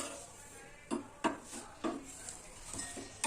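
A sattu paratha dry-roasting on a pan and being flipped side to side, heard as a run of about six sharp utensil clinks and pan knocks over a faint background hum, with no clear speech.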